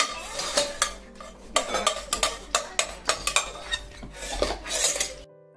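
A little girl plays with kitchen pots, pans and utensils, making irregular clattering knocks, metallic clinks and scraping stirs close by with no talking.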